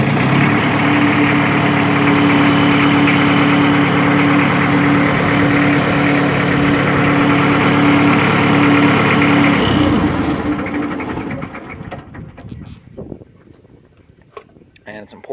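An EIMCO 911 machine's engine runs at a steady, loud idle with a constant low drone for about ten seconds, then shuts off and winds down to quiet, with someone speaking throughout.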